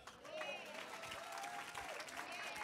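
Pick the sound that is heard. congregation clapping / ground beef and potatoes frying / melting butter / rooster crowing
congregation clapping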